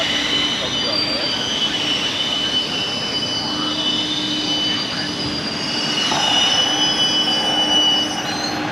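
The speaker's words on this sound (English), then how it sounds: "that horrendous screeching noise you hear is the" Loud, continuous metallic screeching from heavy cleanup machinery clearing a homeless RV encampment, a sustained high-pitched squeal over a steady rumbling roar that swells slightly near the end.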